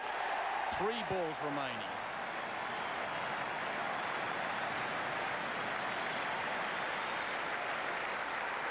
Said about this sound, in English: Well, that gives you some idea of the crowd here at the Adelaide Oval.